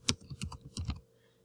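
Keystrokes on a computer keyboard, about seven or eight quick clicks in an uneven burst lasting under a second, close and fairly quiet, then silence.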